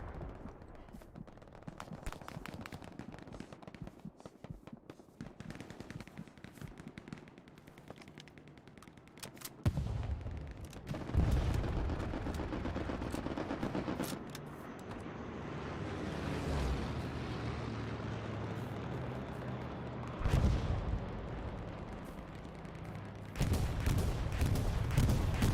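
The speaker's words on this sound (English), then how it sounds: "Now that's a bombing run." Sustained machine-gun fire and heavy explosions from a bombing run in Hell Let Loose, a World War II shooter, with sparse shots first, then loud rumbling blasts and renewed bursts; no one talks.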